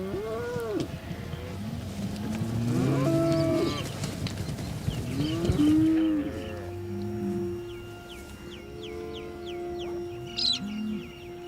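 Dairy cows on an Australian farm moo repeatedly in long, drawn-out calls, some near and some farther off, while birds chirp and call in the background.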